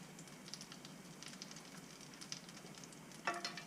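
Pecan-crusted speckled trout fillets sizzle steadily in a hot frying pan with a constant crackle, then a sharper, louder burst of spitting oil near the end.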